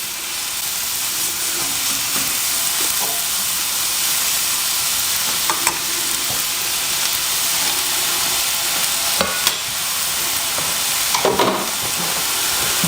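Pork chops fry in fat in a pan, a loud, steady sizzle and crackle lasting throughout with occasional sharper pops and a few scraping stirs, no talking.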